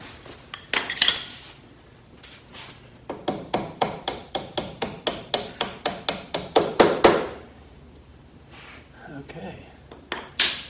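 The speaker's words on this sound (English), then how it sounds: "Let me tap that in with a hammer or something." A hammer taps a part into place on a 1951 Ford pickup during bed-box installation, striking in a steady run of about twenty sharp metallic blows close by, with a few scattered knocks before and after.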